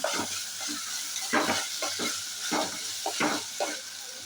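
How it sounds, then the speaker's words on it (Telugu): Ginger garlic paste frying and being stirred in a pan for a prawn curry, a steady close sizzle with repeated scraping stir strokes and no talk. "అల్లం వెల్లుల్లి పేస్ట్ నేను ఒక స్పూన్ అల్లం వెల్లుల్లి పేస్ట్ వేస్తున్నాను ఇది వేసి ఫ్రై చేయాలి బాగా"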